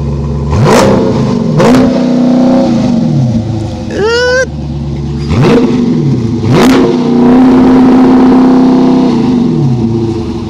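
A 2018 Dodge Challenger engine revs loudly and close, with several sharp throttle blips that rise and fall back to a rumbling idle, plus a brief squeal-like whine partway through.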